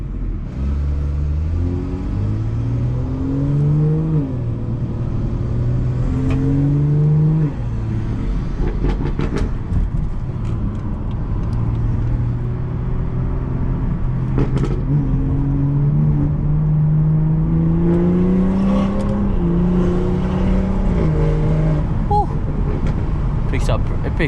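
A 500HP BMW 440i accelerates, its engine pitch climbing through several gears in rising steps, heard from inside the car over road and wind noise, with someone talking at times.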